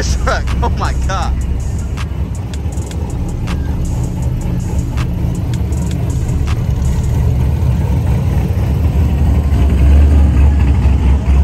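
A truck engine idles at a nighttime-style car meet, a steady low rumble that runs through the whole stretch with people talking excitedly nearby and scattered clicks and crowd noise around it.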